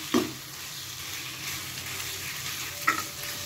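Pasta being mixed with grated cheese in a pan gives a low, steady sizzle, with two sharp utensil knocks against the pan at the start and near the end.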